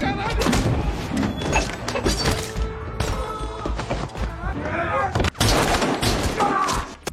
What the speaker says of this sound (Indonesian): Orang-orang ini marah dan menembak.